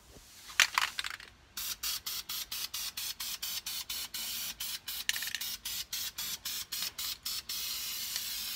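Second coat of spray paint going onto an RC car body, heard as a rapid series of short aerosol bursts with brief gaps between them, close and steady, no talking.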